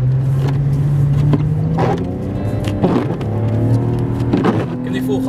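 A car engine drones at a steady high pitch at full throttle, rising and falling as the wheels spin in snow, with people talking over it.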